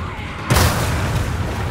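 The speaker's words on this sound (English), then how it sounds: "And I caused an explosion somehow." Explosion in the video game Bulletstorm: after a brief tone, a sudden loud boom bursts out and trails into a rumbling, noisy decay.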